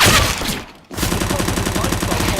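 Rapid bursts of automatic gunfire in a Counter-Strike: Global Offensive esports match, a brief pause, then sustained rattling fire continuing loudly to the end.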